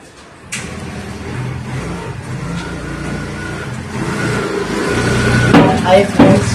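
A car engine revs and pulls away nearby as an uncle's vehicle drives off, its hum steady then swelling louder toward the end, with a few sharp knocks and clatters.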